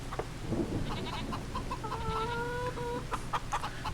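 A flock of about 490 chickens clucks and trills continuously, overlapping calls at moderate distance with steady background noise.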